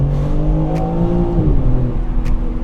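A BMW M3 Competition's twin-turbo inline six pulls hard under acceleration on an open road, a loud, steady engine drone with rising harmonics and one brief dip mid-pull, no voices.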